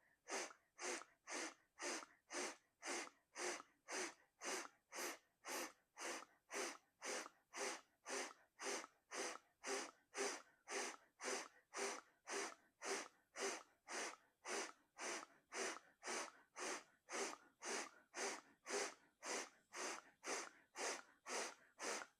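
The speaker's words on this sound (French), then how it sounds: "commencez à vous nettoyer de l'intérieur à l'extérieur avec la respiration du feu" Breath of fire from a Kundalini kriya practice: a long steady train of quick, forceful nasal breaths, about two per second, even and unbroken for over twenty seconds with no talk.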